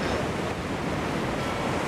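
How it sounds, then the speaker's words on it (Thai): Loud, steady sea surf from the video game Drowned in my Nightmare, a continuous broadband wash of waves with no pauses, filling the whole stretch alone. "แม่งเสียงน้ำทะเลดังมาก"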